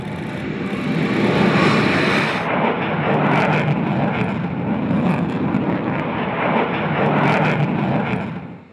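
Sukhoi Su-30MKI fighter jet flying past, a loud, steady broadband engine roar sustained throughout with slight swells, no voices.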